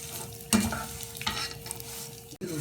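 Vermicelli and cardamom roast in ghee while being stirred, scraping strokes and a soft sizzle, with one sharp clatter near the start and a brief gap near the end.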